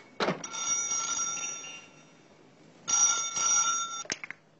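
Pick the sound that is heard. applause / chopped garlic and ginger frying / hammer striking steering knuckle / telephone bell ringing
telephone bell ringing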